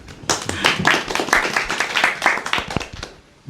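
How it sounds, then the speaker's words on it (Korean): A seminar audience on coffee and independent cafés breaks into a brisk round of clapping that lasts about three seconds, many hands overlapping, then tapers off as a voice begins. "박수 한번 주세요"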